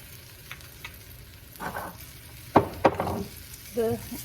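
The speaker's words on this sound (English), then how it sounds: "And let them fry up." Food seasoned with salt and pepper fries in a pan, making a faint sizzle broken by several short scraping and clattering bursts near the end.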